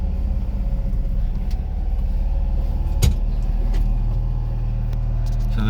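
Blue Honda Acty Attack HA4 mini truck engine idling steadily while warming up, a close low rumble with a few light clicks and one sharp knock midway, no talking.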